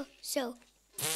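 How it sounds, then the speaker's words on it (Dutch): A whoopee cushion lets out a short, raspy, buzzing fart noise with a sliding pitch, close and loud, followed by a brief burst of noise, with a voice speaking briefly. "Een scheetkussen, hoor je dat?"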